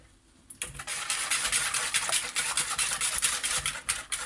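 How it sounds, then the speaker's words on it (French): Apple cake batter being stirred after eggs go in, a steady scraping and sloshing of a utensil in a bowl that keeps going without pause, close and moderately quiet. "Alors là, tu mélanges."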